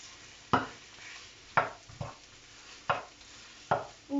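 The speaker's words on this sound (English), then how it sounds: "And I'm going to start putting in our spinach as well." Spinach being stirred into a frying pan for curried fish saag aloo, with several distinct scraping stirs spaced through the clip over a soft background sizzle, close and moderately loud.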